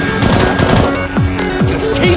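Rapid automatic gunfire in Left 4 Dead 2 survival on a graveyard map, loud sustained bursts of shots layered with game music and effects.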